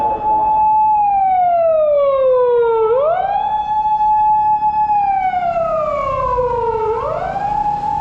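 Loud police siren inside a moving car: long wailing sweeps that slowly fall, then jump back up twice, steady and close, over a low road hum, with no voices.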